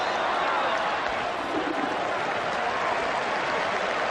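Capacity crowd at an Eden Park cricket match during a 1992 World Cup semi-final, a steady dense roar of cheering and applause that fills the air throughout.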